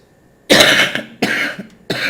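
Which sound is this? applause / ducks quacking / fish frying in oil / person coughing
person coughing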